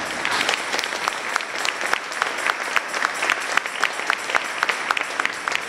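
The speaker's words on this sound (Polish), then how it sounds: "Myślę, że dzisiaj klaskami podziękujmy za tę wielką pracę." Audience at a Day of Judaism commemoration in Kielce, Poland, applauding to thank the bishop and the organizing committee, a sustained round of dense clapping from a mid-sized crowd with a few sharper individual claps standing out.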